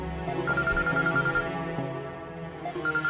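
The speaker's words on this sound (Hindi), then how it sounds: "ये देखो, पुलिस का फोन आ रहा है।" A phone rings with a repeated electronic trill, several bursts of a bright ringtone sounding moderately loud and alone in a quiet room.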